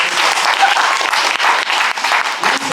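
Steady, loud audience applause at a live comedy show fills the whole stretch, dense clapping with no talk over it.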